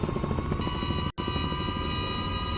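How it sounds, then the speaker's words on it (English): Repeated warning tone of a low rotor horn in a Microsoft Flight Simulator 2024 helicopter, a steady pulsing alarm over the engine and rotor drone, with a brief cut in the middle. "That is a low rotor horn."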